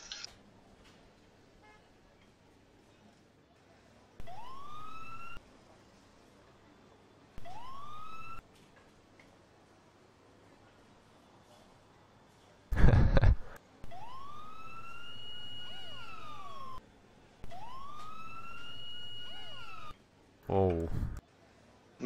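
A police car siren in the Emergency 4 firefighting game, on the Bushton mod, wails in repeated rising sweeps, each lasting about a second, separated by pauses and a couple of harsh noisy bursts.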